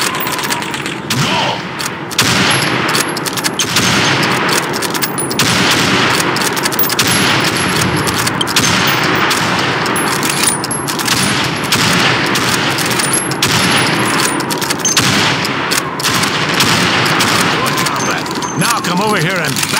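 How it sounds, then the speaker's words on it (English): Rifle fire in Call of Duty 2 during Winter War shooting practice at helmets, heard as a dense, loud, continuous barrage of shots that lasts the whole stretch, with faint game voices underneath. "You have 15 seconds to shoot the helmets."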